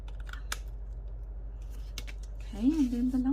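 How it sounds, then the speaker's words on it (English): Scissors snip through paper pages being cut into autumn craft tags, a few crisp close cuts and soft rustles, with a voice briefly speaking near the end. "These pages felt so nice to cut."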